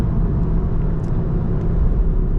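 Deep, steady burble from a pre-OPF 2-litre four-cylinder VW Golf R exhaust, a continuous low rumble held at close range with no one talking.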